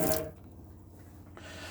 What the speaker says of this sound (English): you'll actually turn on the water pump switch, and the water system will start filling up